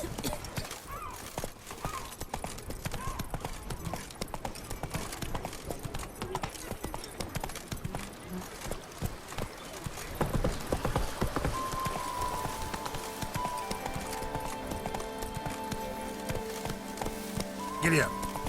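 Horse hooves gallop in a steady, fast clip-clop rhythm in The Witcher 3, joined partway through by a rising game music score, with a voice talking over the hoofbeats.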